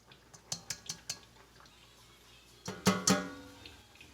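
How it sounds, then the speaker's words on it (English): Metal utensils clink against a pan while draining lamb chops seasoned with oregano in a kitchen, a few light scattered taps followed by a louder cluster of clanks, with no talking. "We got them drained, got most of the liquid off of them."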